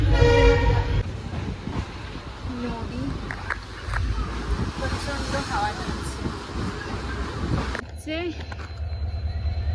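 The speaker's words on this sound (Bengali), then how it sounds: "ট্রেন ছেড়ে দিল লং জার্নি ট্রেনেই বেস্ট" A passenger train rolls along the rails with a steady rumble and rattle heard from inside, people talking over it, and a horn sounding near the end.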